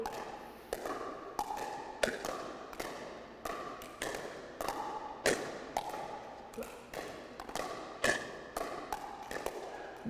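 Paddles strike a ball in a fast volley rally, producing a rapid series of crisp hollow pops at a fairly steady rhythm, close and clear, with a faint ring after some hits.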